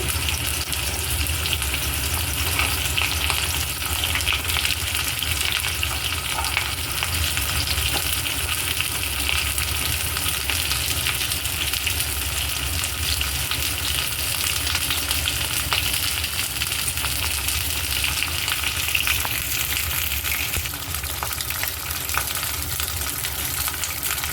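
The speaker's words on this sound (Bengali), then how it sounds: "প্রথমে পটলগুলোকে একটু ভেজে নেবো" Pointed gourd (potol) frying in oil in a pan, with a steady, dense sizzle running without a break for the full stretch at an even, close level, and no talking over it.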